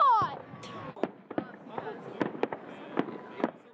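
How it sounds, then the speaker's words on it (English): Fireworks burst over a city waterfront at night: a rising whistle, then a string of sharp cracks and pops at irregular intervals, fairly distant and echoing across the open air. "Fireworks lit up the sky at the waterfront and around the city."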